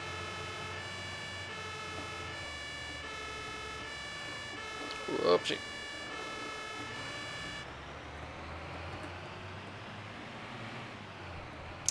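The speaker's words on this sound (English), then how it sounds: "the London modification, and then this siren right here just doesn't fit" An emergency vehicle siren from the Notruf 112 video game wails in a steady repeating pattern, loud and close, then cuts off partway through while a person speaks briefly over it.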